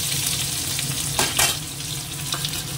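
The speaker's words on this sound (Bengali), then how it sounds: "পেঁয়াজটা আগে একটু ভেজে নিই" Onion fries in hot oil in a kadai, a dense even sizzle close up with a couple of short stirring scrapes in the middle.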